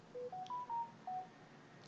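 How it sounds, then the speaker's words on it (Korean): Telephone keypad dialing tones sound in a recorded call to the 119 emergency line, five short, clean beeps at different pitches in quick succession, clear and alone, followed by quiet. "그래서 이제 다시 전화를 한 거예요. 이 김문수 이분께서"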